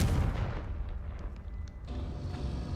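A fire spell explodes in Hogwarts Legacy, a deep booming blast that rumbles loudly at the start and decays into a rolling, crackling tail with scattered debris sounds.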